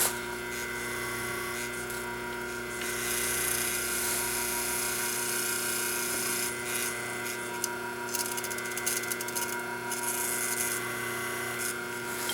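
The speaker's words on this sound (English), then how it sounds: "that's the General Electric half horsepower motor used on a white Westinghouse washing machine" A General Electric half-horsepower motor from a White Westinghouse front-load washer runs on its own with a steady electric hum and whine, plus faint rasping and rubbing noises over it.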